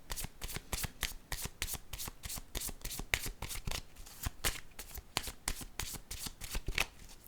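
Tarot cards are handled and laid down in quick, crisp, even flicks and slaps at close range, a steady rhythmic shuffling patter throughout.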